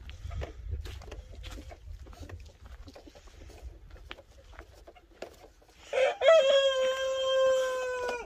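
A Light Brahma rooster crows once, loud and close, near the end, after a stretch of quieter clucking and scattered farmyard noises.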